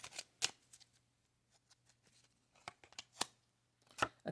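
Kipper cards being shuffled by hand, several sharp riffling bursts separated by quiet gaps and softer card handling, close up with no talk.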